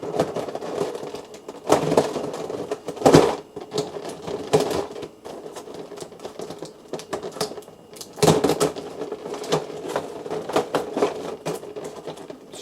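Packing tape ripped and peeled off a Bandai Warhammer 40K Imperial Fists Intercessor toy box, heard as close, loud bursts of rasping tearing that come in uneven spurts with short pauses between them, and no talking.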